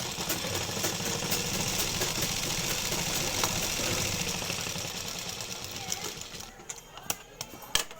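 A sewing machine stitching cloth in a tailoring lesson, a continuous close mechanical hum and rattle that runs steadily and then tapers into scattered clicks, with faint speech underneath.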